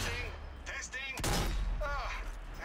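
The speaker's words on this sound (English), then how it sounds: "Oh, this is cool that you can snipe zombies from way back here." Sniper rifle shots in the zombie shooter Zombie Army 4: Dead War, with one sharp loud report cutting in midway over steady game noise while someone talks.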